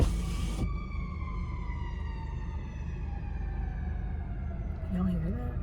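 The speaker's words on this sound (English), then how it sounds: "Oh, it's a fire truck. Oh, they're going past the hospital." A fire truck siren wails past a hospital at night, a loud descending tone with falling harmonics as it moves away, followed by a brief low rising horn-like sound near the end.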